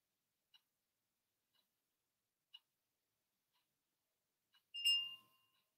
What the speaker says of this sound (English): the timer goes, so slowly coming up.